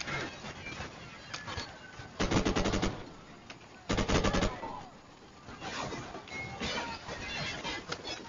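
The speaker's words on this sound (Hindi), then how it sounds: "ये देखो खिड़की से फायर कर रहा है।" Bursts of automatic gunfire come from a window in a Call of Duty war scene, two loud rapid volleys standing out among quieter distant shots and game ambience.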